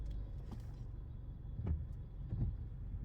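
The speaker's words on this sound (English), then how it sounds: "Gotta let these cars pass a brother." Cars pass on a road, faint and at a distance, with soft swishes rising over a low rumble and no talking.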